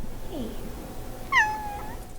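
A single short kitten meow in a cat cafe, faint and slightly distant, over quiet room tone.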